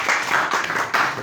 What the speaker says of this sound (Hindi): तालियां मेरे सोदरा तालियां